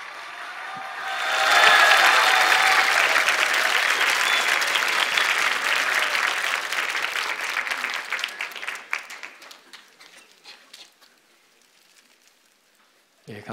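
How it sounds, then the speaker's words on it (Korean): A church youth winter retreat crowd breaks into warm applause to welcome the pastor. The clapping swells quickly, holds for several seconds, then tapers into scattered claps and near silence. "뜨거운 박수로 우리 강사 목사님을 모시겠습니다."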